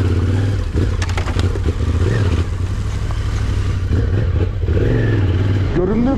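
Yamaha Tenere 700 motorcycle ridden along a narrow single-track trail, engine droning and revving up and down close by, with rattles and clatter from the rough ground throughout.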